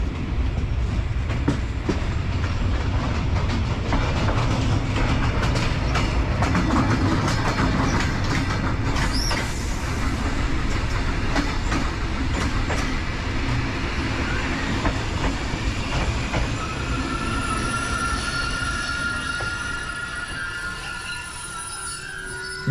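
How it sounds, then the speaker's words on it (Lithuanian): Train wheels clank over rail joints in a steady clickety-clack as a passenger train rolls between Budapest, Ljubljana and Zagreb, loud and continuous with rumbling carriage noise throughout, easing slightly toward the end. "Ir malonus man tas garsas bėgių trankymuose"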